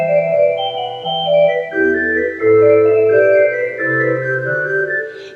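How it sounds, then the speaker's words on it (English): Bach's chorale melody from Jesu, Joy of Man's Desiring, played on a sustained instrument with shifting bass notes under a flowing upper line, loud and continuous with no voices. "Jesu Joy of Our Desiring, you may have heard from time to time"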